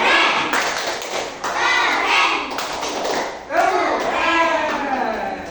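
Schoolchildren in a third-grade classroom doing a rhythmic cheer clap for a parrot: patterned group claps and hand slaps mixed with excited young voices, loud and close throughout.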